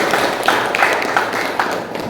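A small group of participants in a classroom coaching session claps for a presenting group, sharp, close hand claps landing in an uneven patter that stays fairly loud and runs almost free of talk.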